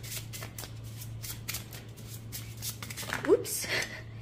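A tarot deck is overhand shuffled, with soft papery card slaps and riffles repeating in quick bursts, faint and close beneath a low steady hum.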